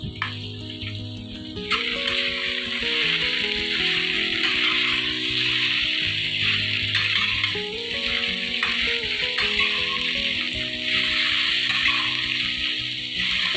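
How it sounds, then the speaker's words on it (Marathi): Bitter gourd frying in a pan with onion, ginger and garlic, a continuous bright sizzle with a spatula scraping and rattling against the pan throughout, close and steady. "आता ती सुद्धा आपण छान परतून घेऊ"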